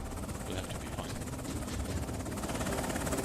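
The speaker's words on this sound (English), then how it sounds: "Helicopter here." A helicopter in the video game Afghanistan '11 thrums with steady, fast rotor chop and a constant engine roar, loud and close throughout.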